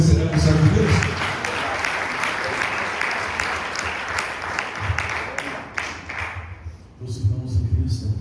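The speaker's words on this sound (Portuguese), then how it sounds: "Aplauda o Senhor, recebendo o servo de Deus." Church congregation applause fills the hall at an Assembly of God service in Curitiba, dense and sustained clapping that fades near the end before rising again as people talk over it.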